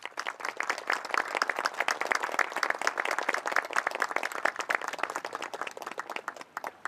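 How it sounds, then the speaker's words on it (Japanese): Sustained applause from a large crowd after special karate demonstrations at a Karate Day festival, dense steady clapping that fades slightly at the end. "今一度大きな拍手をお送りくださいませ"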